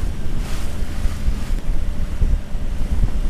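Strong wind roars past a doublehanded sailing boat at sea in a wind acceleration zone on a passage to Malta. The gusts rush steadily and loud against the microphone, with no voices.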